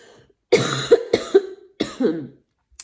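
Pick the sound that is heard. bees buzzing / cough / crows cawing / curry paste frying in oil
cough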